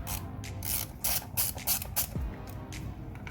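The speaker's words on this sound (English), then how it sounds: "I like to break them free with the ratchet, give them a couple turns" A ratchet breaks loose the retaining bolts on a Ford F150 5.0L V8, a string of quick, close clicking bursts with short pauses between them.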